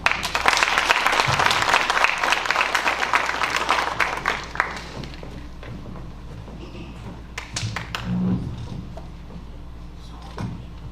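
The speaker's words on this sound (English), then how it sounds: "I think they deserve a round of applause" Applause at a Kentucky FFA banquet: a dense, loud round of clapping for about five seconds that thins into scattered claps, then room noise with shuffling and knocks.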